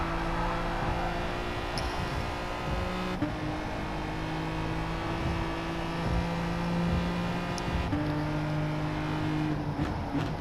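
Racing cars run side by side in a racing video game, engines droning loudly and steadily with shifting pitch tones as gears change, continuous and close with no talk.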